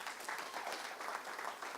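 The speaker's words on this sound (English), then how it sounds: "So a round of applause for that." Applause from a gala audience, a steady wash of many hands clapping, faint and distant, with no voices over it.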